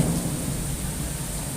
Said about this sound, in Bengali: বজ্রপাতের শব্দ শুনতে পাচ্ছেন